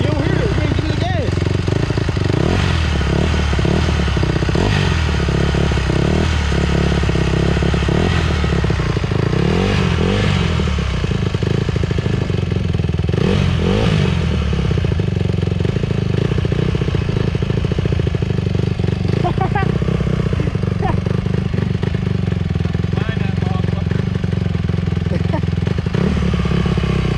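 A dirt bike engine revs and idles roughly through the clip, loud and continuous with a rattling mechanical clatter, while people talk over it outdoors during a first-time riding attempt.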